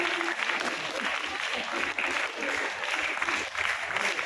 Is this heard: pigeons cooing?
no